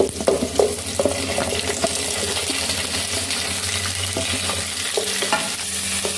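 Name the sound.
roasting coconut, tomato and spices in a pan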